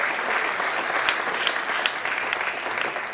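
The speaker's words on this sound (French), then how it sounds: "je voudrais ce soir qu'on applaudisse, s'il vous plaît, bien fort Janos Bajor" Audience applauding the referees at a sports match, a steady, dense wash of clapping from a large crowd that holds at even strength for about three seconds with no voices over it.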